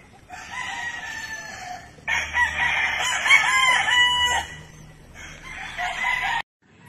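A rooster crows loudly and close by, with long, strained calls repeated in quick succession.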